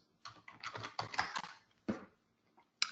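Quick bursts of typing on a computer keyboard, clustered keystrokes with short pauses, close and fairly loud, a couple of isolated taps trailing off near the end.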